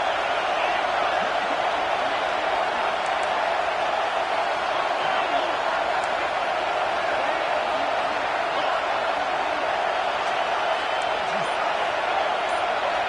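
Loud, continuous stadium crowd noise at a football playoff game, a steady roar with scattered shouts and whistles that keeps a constant level throughout.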